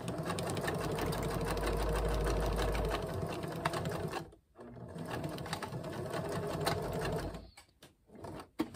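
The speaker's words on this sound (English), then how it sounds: "I'm gonna just come and sew over top of that." A sewing machine stitches over a folded edge of a bag made from recycled food packaging, rapid close mechanical chattering in bursts with brief pauses where the needle stops.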